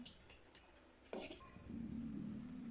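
A spoon stirs homemade chili garlic oil in a pan while milkfish is being cooked, giving a sharp metallic clink followed by soft scraping and a steady low sizzle.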